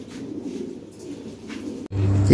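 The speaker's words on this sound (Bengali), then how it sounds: "এখানে একজোড়া কবুতর আছে" Low, soft cooing of a pair of Lahori Sherazi pigeons repeats steadily, close by, growing louder near the end.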